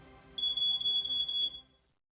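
A single high-pitched electronic smoke alarm tone sounds clearly for about a second, then cuts off into quiet.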